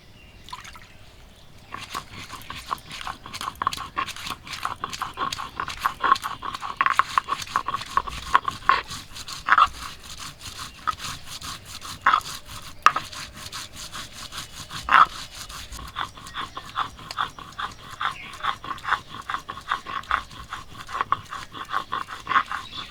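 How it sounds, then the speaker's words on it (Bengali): Dried chillies and whole cumin being ground together on a stone slab for chicken curry: rhythmic, close rasping strokes of stone on stone, repeating steadily back and forth with occasional sharper scrapes. "শুকনো লঙ্কা জিরার সঙ্গে একসঙ্গে বেটে নেবো"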